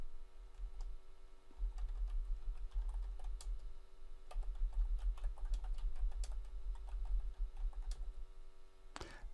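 Irregular bursts of keystrokes on a computer keyboard as a group description is typed, quick clicks clustering and pausing across the stretch, close and fairly quiet, with no voices.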